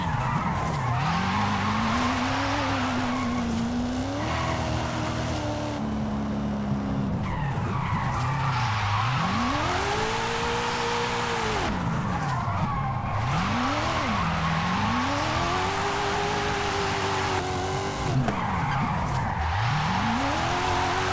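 Tires squeal and skid continuously as a car drifts in the racing game Forza Horizon 5, the engine note rising and falling through repeated slides, loud and steady throughout.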